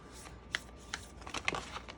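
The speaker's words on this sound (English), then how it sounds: "It does shuffle, like it sticks together a little bit because of the coating." A Southern Gothic Oracle deck with coated cardstock is shuffled, its slightly sticky cards giving quiet riffling and a few sharper snaps and flicks over about two seconds, close by with no talking.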